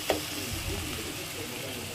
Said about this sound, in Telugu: తగినంత పసుపు వేసుకొని మొత్తం బాగా కలిపుకుందాం